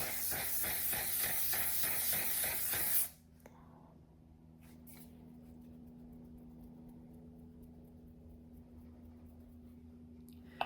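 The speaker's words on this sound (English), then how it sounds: "Now I'm going to feature the One Size Until Dawn waterproof setting spray." One Size Until Dawn waterproof makeup setting spray releases a loud, continuous misting hiss for about three seconds, then cuts off abruptly into a quiet room hum with a few faint clicks.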